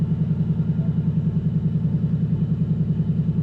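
A 2024 Ford Mustang GT S650 with its exhaust set to track mode holds a deep, loud, steady rumble with a pulsing rhythm, heard close up from inside the car, with no talking.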